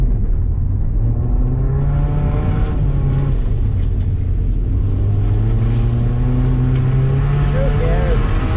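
A 2007 Subaru Impreza racing on ice at the Minden Ice Races, its engine revving and rising through gears in repeated sweeps, loud and close from inside the car, with road and wind rumble underneath.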